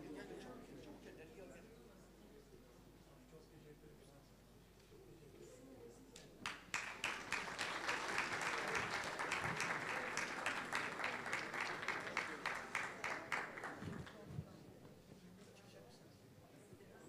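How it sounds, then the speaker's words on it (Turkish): Hearty audience applause at a 2011 symphonic concert in Antalya swells in and holds for several seconds of dense clapping, then fades, with a host's voice speaking before and after. "Güçlü alkışlarımızla yerlerine uğurluyoruz efendim"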